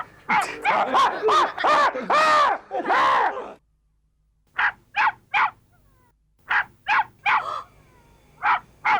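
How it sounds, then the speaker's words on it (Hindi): Short yapping barks from a small dog, in two bursts after a stretch of loud, busy sound, sharp and fairly close with quiet gaps between the yelps. "मेरे घर में कुत्ता कहाँ से आया?"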